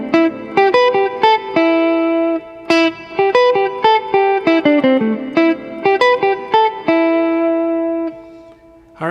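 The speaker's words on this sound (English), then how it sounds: "the second theme, it's got a double time feel and it sounds like this" Electric guitar plays the double-time second theme of an instrumental, a clean-toned run of quick single notes and sustained tones with slight effects, loud and unaccompanied over nine seconds.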